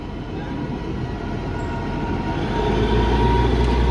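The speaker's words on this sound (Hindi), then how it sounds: "वो देखो ट्रेन सामने से कितनी प्यारी लग रही है रात को।" At night the last train rolls into Solan railway station with a steady, low rumble that grows gradually louder as it nears.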